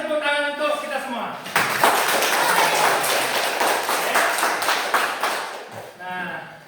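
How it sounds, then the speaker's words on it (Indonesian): Children clap their hands together in a classroom, a dense burst of applause that starts abruptly, holds steady for several seconds and fades, with a teacher's voice before and after it. "Kasih tepuk tangan untuk kita semua."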